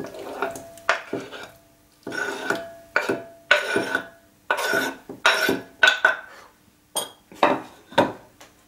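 Small pieces of cut greengage plum dropped into a bowl in a kitchen, a series of close, crisp clinks and soft thuds in irregular bursts, with quiet pauses between.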